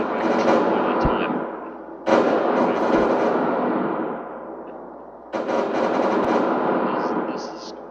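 Turret gunfire in a Unity game under development: dense, loud bursts of rapid shots in three waves, each sharply starting and slowly fading, with a few low thumps among them.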